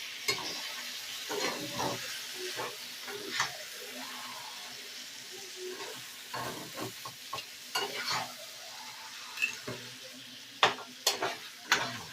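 Chicken sizzles in a pan with spice paste as it is stirred and browned for a spicy chicken kosha, made without ginger or garlic; steady frying hiss with scraping stir strokes, and sharper clicks toward the end.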